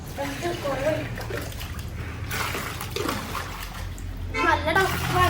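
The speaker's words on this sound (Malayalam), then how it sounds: "നമ്മൾ ഈ ബക്കറ്റിൻ്റെ ഉള്ളിലേക്ക് നമ്മൾ വെള്ളം ഒഴിക്കും." Water poured into a bucket splashes and trickles as it drains out through an attached pipe while someone talks over it, with several bursts of splashing.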